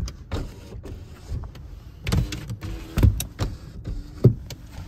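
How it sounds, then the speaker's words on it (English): Power windows of a 2015 Honda Fit LX run in several short bursts, each a close electric motor whine with a soft thump as the glass stops. "Windows work."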